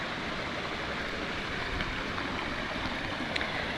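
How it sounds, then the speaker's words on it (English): A river in rural Portugal farmland flows in a steady, broadband rush of water, fairly close and continuous with no talk, a few faint high clicks over the wash. "You will probably hear that the sound of the river is getting stronger."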